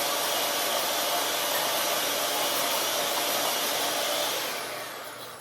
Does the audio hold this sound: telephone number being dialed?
no